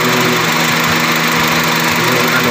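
A 2015 Honda City engine running after its ignition coils were swapped, giving a steady close mechanical drone with continuous vibration throughout.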